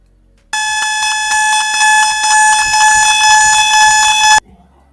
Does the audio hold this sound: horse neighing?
no